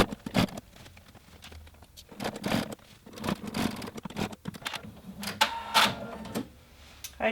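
A sewing machine stitches around the hem of a pair of jeans in several uneven bursts of mechanical whirring and clatter, separated by short pauses, close by and moderately loud.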